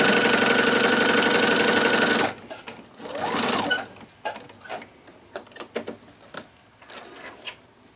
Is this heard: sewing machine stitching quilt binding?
yes